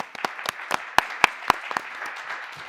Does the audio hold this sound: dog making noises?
no